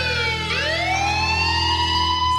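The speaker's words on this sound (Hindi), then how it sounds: "अरे ये क्या, दूसरा एम्बुलेंस भी आ गया" An ambulance siren in an animated horror story as it arrives at a fairground, its wail sweeping upward and holding loud and close over a steady low engine rumble.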